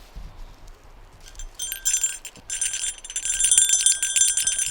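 A small bell clipped to a fishing pole line in the Canadian wilderness jingles in bright, repeated tinkling bursts that grow busier and louder toward the end, with no talk over it.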